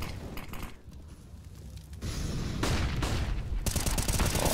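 A flashbang grenade and bursts of gunfire in a CS:GO professional match, sharp crackling volleys that swell loudly in the second half.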